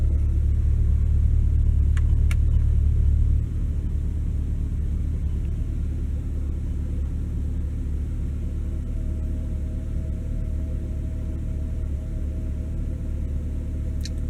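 A C8 Corvette with the stock NPP exhaust idles in a deep, steady rumble, a bit louder for the first few seconds before settling to a lower drone, heard alone with no speech.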